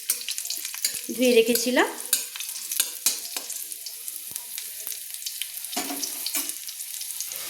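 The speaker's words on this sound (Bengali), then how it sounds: "এবার 8-10টা রসুনের কোয়া আমি কিন্তু ভেজে নিচ্ছি" Garlic cloves, eight to ten of them, frying in a pan with a loud sizzle and occasional stirring scrapes, heard close up while a voice speaks briefly over the cooking.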